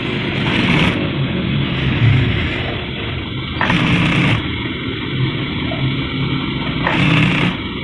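A sewing machine stitches a baby boy's kurta, its motor whirring in steady runs broken by short pauses, close and fairly loud with no voices.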